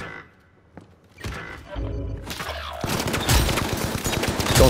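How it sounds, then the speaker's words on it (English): Gunfire in the video game Rebirth: a few scattered shots and thuds open quietly, then sustained rapid automatic fire builds and grows louder toward the end. "I'm shooting."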